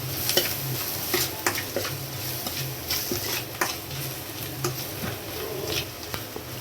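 Spices such as turmeric, coriander powder and ground chilli being stirred together in a cooking pan, a steady scraping stir with soft sizzling and occasional sharp clicks of the spoon against the pan.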